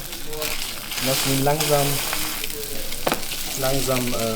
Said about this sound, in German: Wir lassen ihn langsam braten.